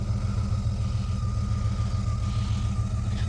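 A 1998 Jeep truck with a 5.9 engine pulling away, a steady low rumbling engine drone with a faint whine on top, close and continuous, no talk.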